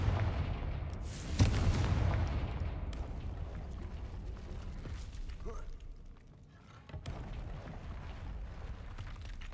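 A Confringo fire spell blast in Hogwarts Legacy, a loud booming burst near the start that rumbles and fades, followed by a lower roar of game ambience and a few softer secondary impacts.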